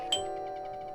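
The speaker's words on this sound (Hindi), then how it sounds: "कॉल बेल की तीखी गूंज।" A single bright electronic doorbell chime rings once and sustains, its tone lingering with a slight pulsing decay.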